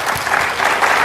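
A brief burst of loud, dense audience applause at a community conference rally, close and continuous clapping for about a second.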